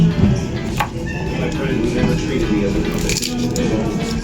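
Garlic is pounded for a vinegar dip in a seafood kitchen, giving a few sharp knocks and crushing thuds close by while a person talks over them.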